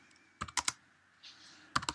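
Quiet bursts of keystrokes on a computer keyboard as a command is typed, with two quick clusters of taps separated by a short pause.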